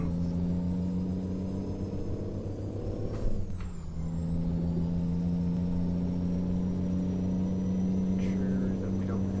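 A truck engine in American Truck Simulator drones steadily and loudly, then briefly dips and roughens as it shifts gears partway through before settling back into an even hum.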